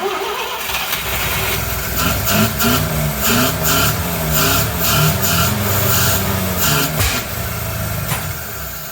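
A 1979 Mazda SA RX7 rotary engine runs after starting, revving in uneven bursts with a rough, pulsing idle, loud and close, with faint talk in the background.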